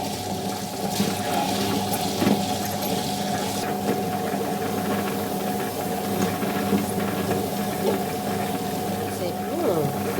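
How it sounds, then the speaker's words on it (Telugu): Soaked lentils churn in a wet grinder for vada batter, giving a steady whirring, sloshing hum that holds constant, with talking over it. "గ్రైండర్ వేసుకుందాము"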